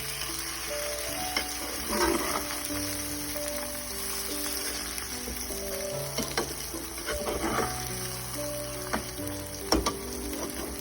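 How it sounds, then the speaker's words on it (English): An omelet fries steadily in a pan with a dense, crackling sizzle that runs throughout, broken now and then by sharper pops and light scraping, and no one speaks. "now I'm gonna turn it, so let the other side fry it a little bit too"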